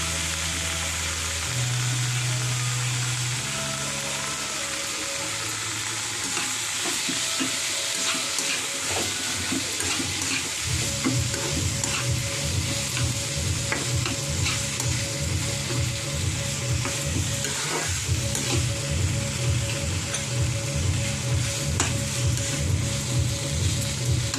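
Grated mashed potato frying in a pan for nonta patisapta, a steady close sizzle with rhythmic scraping and stirring strokes through the second half, and no talking.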